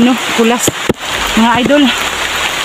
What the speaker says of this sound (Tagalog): Sobrang ulan po.